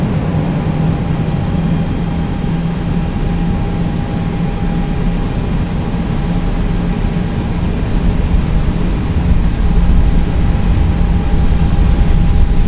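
Airbus A320 starting its takeoff roll in X-Plane 11, a steady loud jet engine roar and hiss with a constant tone, swelling slightly louder toward the end.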